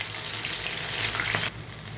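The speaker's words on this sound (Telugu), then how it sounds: "మీడియం ఫ్లేమ్లోనే వేపుకోండి" Garelu, lentil vadas, fry in hot oil over a medium flame, giving a steady, close sizzle with light crackling and a brief clatter partway through.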